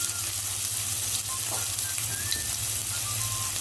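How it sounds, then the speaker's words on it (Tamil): Onions sauté in a pan with mustard seeds and coconut, giving off a steady close sizzle and crackle with a few light stirring scrapes and a low hum underneath. "வெங்காயம் கொஞ்சம் வதக்கிட்டு"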